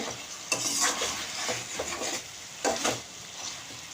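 Chicken and onions stirred and frying in a pan, a continuous close sizzle broken by several scraping strokes of a spoon against the pan.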